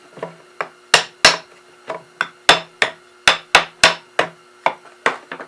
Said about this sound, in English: you could just whack it with a mallet to make it go through